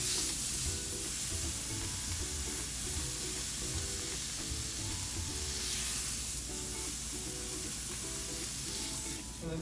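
A red wine ribeye steak sears in a hot pan with a loud, steady sizzle and hiss throughout, broken by faint scraping and stirring noises, with no talking.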